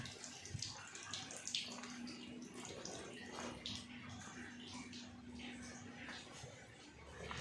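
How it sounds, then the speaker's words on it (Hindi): Water running continuously from a broken tap in a hospital bathroom in Delhi, a faint, steady splashing trickle with a low electrical hum beneath and occasional small knocks. "नलके भी बंद नहीं करते कोई, ये ख़राब हो रखा है, देखो पानी फैलता रहता है।"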